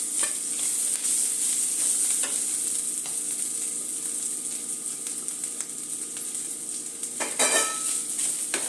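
Onions fried in a pan with grated coconut being stirred, a steady close sizzle with soft scraping strokes throughout and a brief louder clatter near the end, no talking.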